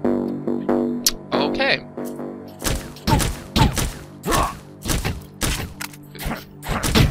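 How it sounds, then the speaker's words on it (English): Honeycomb hives being broken in a video game: a series of sharp cracking, smashing impacts spaced irregularly across the clip, loud and close, with a person talking between the hits. "I'm gonna break these honeycomb hives because I wanna get some honey."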